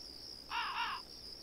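A single drawn-out crow caw lasting about half a second from a bird in the Tomb Raider video game, heard alone over a steady high-pitched ambient hum.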